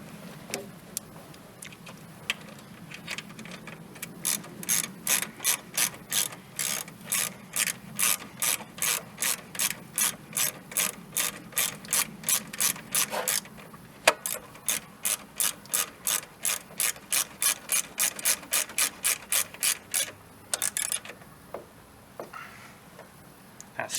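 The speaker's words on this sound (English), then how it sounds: "Put the nut on. Just like so. And then we'll start tightening both of them." Ratchet wrench tightening nuts during an alternator upgrade on a 1992 Dodge Dakota: long runs of fast, even clicks, close and crisp, pausing briefly midway and tapering off near the end, with no talking.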